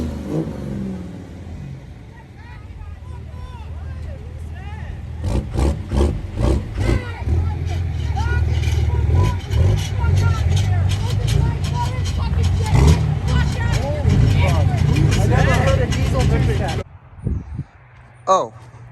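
An old, filthy pickup truck being driven to a small-town truck meet, its engine rumbling and revving loudly up close with rattling road noise, then cutting off near the end as people talk.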